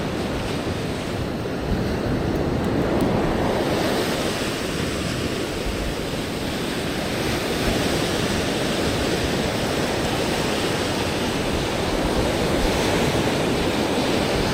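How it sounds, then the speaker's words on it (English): Ocean surf breaking out past a reef on a northern fishing trip, heard as a constant broad roar of waves mixed with wind buffeting the microphone, steady throughout with no talking. "Those waves just look so big out the back there."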